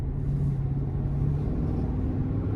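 A 2023 GMC Sierra 1500 Denali Ultimate pickup accelerates in sport mode, heard from inside the cab as a loud, steady low engine rumble with a faint rising tone and no speech.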